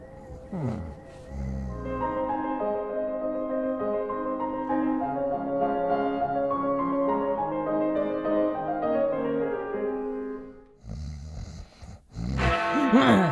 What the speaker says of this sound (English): Awaking in the middle of a prodigiously tough snore